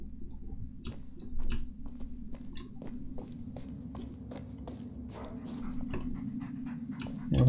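A dog in the Blair Witch horror video game, heard as soft scattered pawsteps and light clicking movements in a quiet game scene, with a slightly louder rustle at the end.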